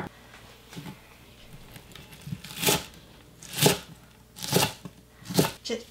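A knife slicing cucumber into fairly thick pieces on a board, a few separate sharp chops spaced about a second apart, close and fairly quiet, without speech.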